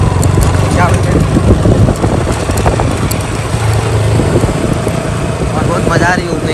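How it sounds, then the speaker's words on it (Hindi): A motorcycle rides along a road, its engine droning steadily and loudly throughout with wind noise, while someone talks over it. "मैं बाइक चला रहा हूँ"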